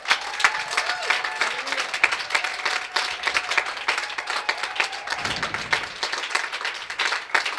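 An audience at a church talk show claps in a dense, steady round of applause, many hands close by, holding evenly for several seconds.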